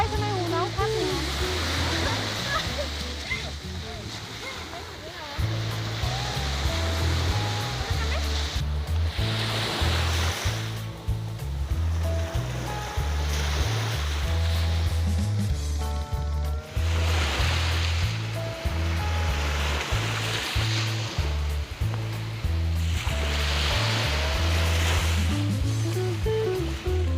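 Sea waves roll onto a beach on a mild day, the surf washing in repeatedly as broad rushing swells over a constant low droning background.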